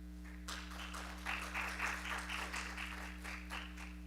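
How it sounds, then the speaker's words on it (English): A conference audience at a Hindu teens gathering gives a final round of applause, a steady patter of clapping that swells and eases over a few seconds above a low background hum. "Let's have one final round of applause for everyone."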